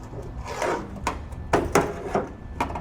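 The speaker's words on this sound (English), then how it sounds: "let me get a pry bar, see what happens when I give this a little tweak" Pry bar levering against the rusty sheet-metal wiper cowl panel of a 1962 Chevy C10 pickup, producing a series of short creaks and metallic scraping strains spaced about half a second apart over a low shop background.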